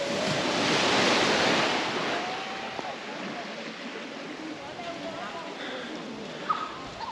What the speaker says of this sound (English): now this is a small secluded beach